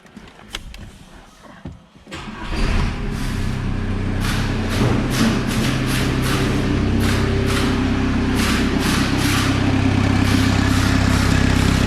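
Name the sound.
diesel car engine running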